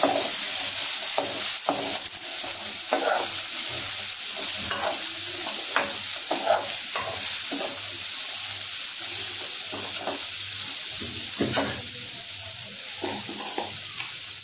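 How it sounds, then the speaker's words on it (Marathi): Cluster beans and potato pieces are stirred in a pan, with a spatula scraping in repeated strokes over a steady sizzle, close and alone with no talking. "गवार आणि बटाटा जो आहे तो टाकायचा आहे। छानपैकी मिक्स करून घ्यायचं।"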